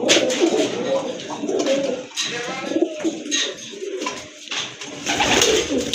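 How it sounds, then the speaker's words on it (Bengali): Rajshahi Giribaz pigeons, a sky-blue pair, coo repeatedly at close range in soft, throaty rolling phrases, with faint background bird calls and no talking over them. "এটা হচ্ছে আপনার টোটালি অরিজিনালি রাজশাহী গিরিবাজ কবুতর"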